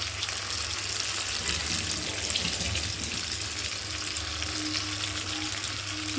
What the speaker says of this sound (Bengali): ভালো করে নাড়তে হবে।